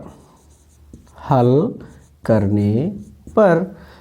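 Pen scratching as a Class 10 maths solution is written out, solving two simultaneous equations for a board exam question, heard in short bursts beneath a man explaining the steps.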